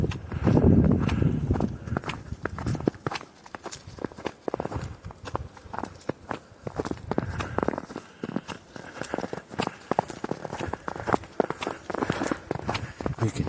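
Boots crunch steadily on fresh, soft snow during a mountain hike on Appalachian Trail training, with close, rhythmic footsteps in an even walking pace that continue throughout.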